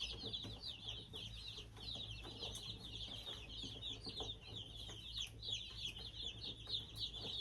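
About 225 young chicks in a brooder for meat chickens chirp constantly, a dense high-pitched peeping chorus over a low steady hum, fairly faint throughout.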